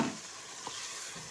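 Onions being lightly sautéed in a pan for creamy karahi chicken give off a soft, faint sizzle with a brief stir or scrape, quiet and steady with no voices.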